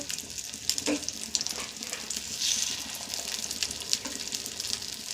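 Egg batter mixed with onion, coriander leaves and green chilli sizzles and crackles steadily in a paddu pan, a soft continuous frying hiss with small pops throughout.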